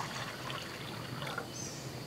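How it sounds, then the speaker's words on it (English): Creek water is poured into a metal canteen cup outdoors, a steady close trickling and splashing stream running throughout at moderate loudness with no voices. "We're going to add the water we got from the creek"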